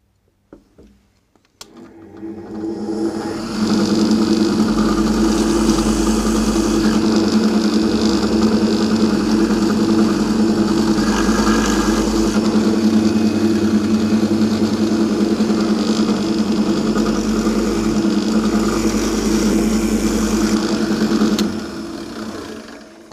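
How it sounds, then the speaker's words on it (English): A pillar drill motor spins up and runs as a steady loud whine with a grinding rumble for about twenty seconds while drilling a hole in box-making work, then winds down. "we'll drill a hole for that to sit into"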